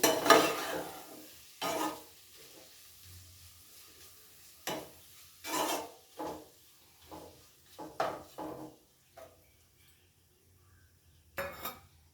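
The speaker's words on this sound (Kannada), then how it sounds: "ಈ ಟೊಮ್ಯಾಟೊನ ಇದರಲ್ಲಿ ಸ್ವಲ್ಪ ಸಾಫ್ಟ್ ಬರೋ ಥರ ನಾನು ಚೆನ್ನಾಗಿ ಫ್ರೈ ಮಾಡ್ಕೊಳ್ತಾ ಇದ್ದೀನಿ" Tomatoes fry in a pan for kaju masala, heard as intermittent bursts of sizzling and scraping as a utensil stirs them, separated by quieter stretches of low simmer.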